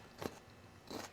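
Two crisp bites into a raw cauliflower heart, each a short crunchy crack, spaced under a second apart, close and fairly quiet, with no voices.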